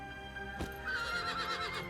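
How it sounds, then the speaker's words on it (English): A horse neighs loudly in Zelda: Breath of the Wild, a single whinny with a sharp onset that rises and trails off over a steady game music bed, close and clear with no talking. "This horse doesn't even like me."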